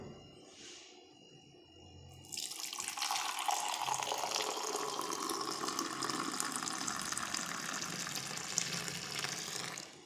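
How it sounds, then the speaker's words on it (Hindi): Strained hotel-style chai pours from a pan into a cup, a steady close liquid stream starting after a quiet moment and running continuously to the end, frothing as it falls, with no talk. "अब इसको मैं डाल लेता हूँ कप में।"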